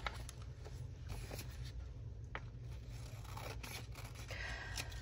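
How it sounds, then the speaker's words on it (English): Scissors snip quietly at paper for a creative journal, with faint, scattered cuts and rustles over a low steady background hum. "I can cut this down."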